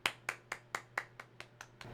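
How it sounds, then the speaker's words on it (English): Recorded clapping played back, about eight evenly spaced sharp claps in a steady rhythm over a low hum, fairly quiet with no voices. "I'm just gonna play the clapping sound effect"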